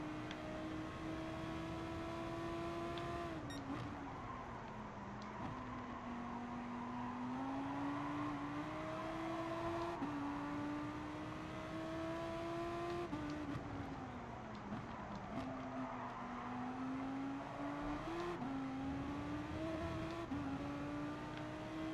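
Honda NSX race car engine in GT Sport, a steady close engine drone with rising and falling pitch through repeated shifts and revs, continuous for the whole stretch.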